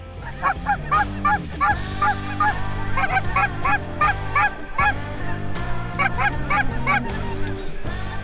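A large flock of Canada geese honking loudly and continuously in Oklahoma, many overlapping calls forming a dense, clamorous chorus close by.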